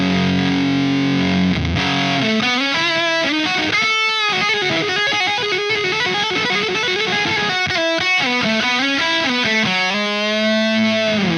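Electric guitar run through a high-gain distortion pedal cranked all the way up, with no talking: thick, saturated, sustained notes and chords played steadily and loud, a brief gap near the start.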